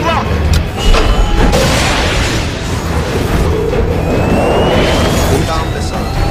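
A loud missile explosion in an action scene, a dense roaring blast with rumbling debris and a high whine sweeping up through the second half, heavy and continuous.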